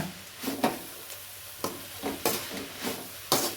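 A spatula stirs a pan of moringa leaf stir-fry after salt goes in, scraping in several quick, uneven strokes over a faint, low sizzle, quiet and close.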